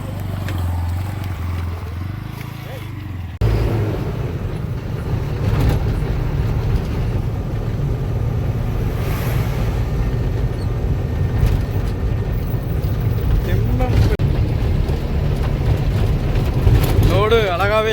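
A truck loaded with coconuts, travelling from Pollachi toward Chennai, rumbles along the road with a steady engine drone that swells after a few seconds, with people talking over it.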